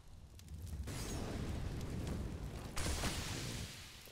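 A grenade explodes during a Counter-Strike match on the Mirage map, a loud, broad booming rumble that holds for several seconds and swells again near the end.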